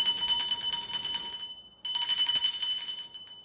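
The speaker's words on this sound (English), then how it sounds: "I love the really delicate stem or handle of the bell" A small vintage bell with a delicate, intricately designed handle is rung twice, each bright metallic jingle ringing out close and loud, then decaying before a short pause and a second shake.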